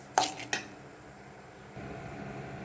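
Rava is stirred and roasted in a pan, giving two sharp metallic clinks of a utensil against the pan near the start, then a quiet steady hiss with a low background hum.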